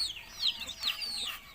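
Newly hatched ducklings give quick, high-pitched peeps in small clusters, fairly close but quiet, with no talking over them.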